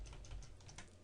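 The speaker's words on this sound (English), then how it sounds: "so I can just keep clicking Control Z and go all the way back to the beginning" Computer keyboard keys are pressed in a quick run of light clicking taps while undoing photo edits with shortcut keys, close and clear with no talking.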